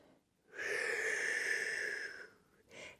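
A long, breathy exhale during a Pilates core, glutes and back workout, close and clear for about a second and a half, followed by a short softer breath, with no talking.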